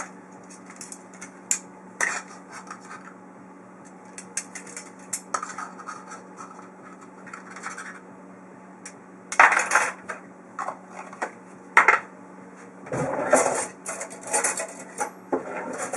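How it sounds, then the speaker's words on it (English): Dry cake ingredients with baking powder are stirred in a bowl, giving irregular bursts of gritty scraping and rasping, soft and close, separated by quiet pauses, with a steady faint hum beneath. "go ahead and stir that up a bit"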